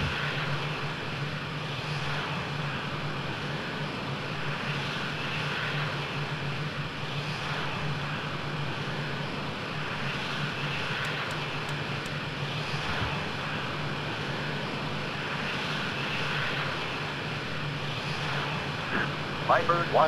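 A steady, loud roar from a jet fighter engine at takeoff in the flight simulator Falcon 4 Allied Force, continuous for about twenty seconds with a constant hum and faint cockpit beeps near the end.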